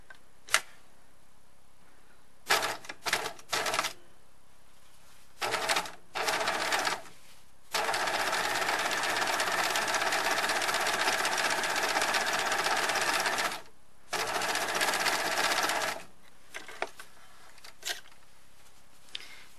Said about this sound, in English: I'm now sewing the folded edge of this chimney placket and making sure that it's not getting sewn to the shirt